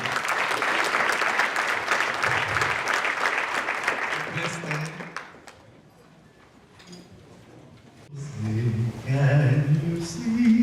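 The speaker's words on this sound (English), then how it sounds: "let's give him a round of applause" Steady applause from an audience at an administrator-of-the-year award event, lasting about five seconds before dying into quiet murmurs and a few voices, then singing begins.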